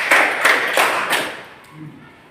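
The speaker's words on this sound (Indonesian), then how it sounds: "Tepuk 1, tepuk 1, tepuk 2, tepuk 3, tepuk 1, 2, 3" Students in an Indonesian classroom clap out a counted pattern: four sharp, evenly spaced claps close together, then a fade into quiet room tone.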